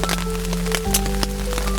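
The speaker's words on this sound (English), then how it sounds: "It's a steady drizzle that's going on." Steady drizzle of rain pattering on a tarp in the woods, a loud, dense spray of drops with scattered sharper taps over a low constant hum, no voices.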